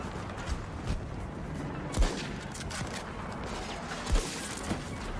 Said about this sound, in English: New sniper seems quite snappy.